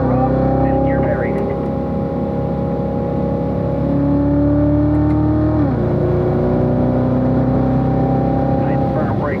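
A race car engine lapping the track at Spring Mountain Motorsports Park runs loud and steady throughout, its pitch shifting with gear changes and dipping near the middle. An instructor's voice talks over it.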